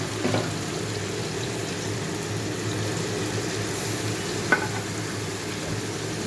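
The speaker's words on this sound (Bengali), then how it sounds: "এখন মশলা দিচ্ছি, রসুন বাটা দিলাম" Spices and garlic paste frying in a pan give a steady, close sizzling hiss with faint stirring, holding evenly throughout with one brief clink partway.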